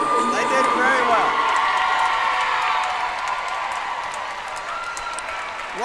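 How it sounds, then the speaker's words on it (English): Basketball crowd at a Cleveland vs Rhea County game cheers and applauds, a dense sustained roar with whoops that slowly fades, while a commentator talks over it. "So the crowd loving it"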